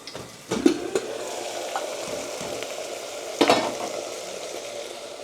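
Tomatoes frying in a pan with cumin and asafoetida for pav bhaji, a steady close sizzle with a couple of louder bursts and spoon scrapes against the pan.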